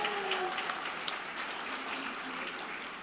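Awards-night audience applauding winners of a planning excellence presentation, a steady soft wash of clapping from a room of people, heard at moderate distance.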